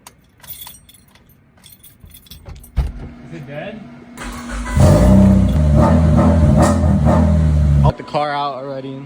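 Car keys jangle and clatter near a Mitsubishi Lancer before an engine turns over and settles into a loud running drone, with people talking in the background early on.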